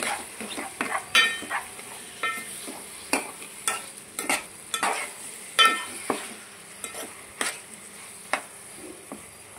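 Mutton curry frying in a pan being stirred, with a steady sizzle under repeated scraping spoon strokes against the pan at an uneven rhythm, close and moderately loud, no talking.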